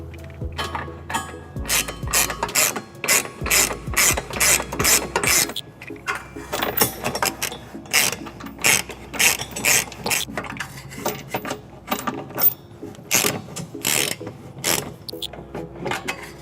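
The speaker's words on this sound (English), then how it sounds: "so that I can get a 19mm socket on these guys to tighten them down" Ratchet wrench with a 19mm socket tightening trailer hitch bolts under the fender of a 2018 Kia Sedona, rapid close metallic clicking in repeated bursts with short pauses between strokes.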